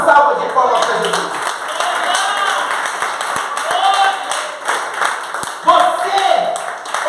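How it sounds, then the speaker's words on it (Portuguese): A church congregation claps during a sermon, a loose spread of handclaps rising and fading beneath a preacher's voice that keeps talking over much of it. "Uma salva de palmas para Jesus."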